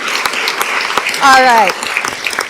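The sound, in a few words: applause for first, second and third-year teachers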